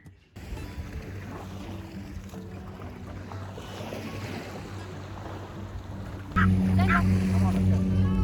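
A big boat moving on the water gives off a steady low engine drone, close and constant, swelling louder near the end, with voices talking over it.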